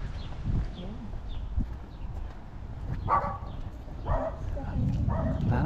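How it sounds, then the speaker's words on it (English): Several dogs bark at intervals in an old-fashioned residential neighborhood during a walk, some barks near and others farther off, with street ambience and a low outdoor rumble beneath. "A lot of barking dogs."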